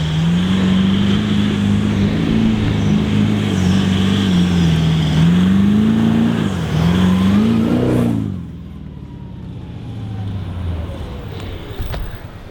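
Cars climbing a sand hill on a beach, a steady loud engine drone with rising and falling pitch for about eight seconds before dropping away, leaving quieter distant rumble.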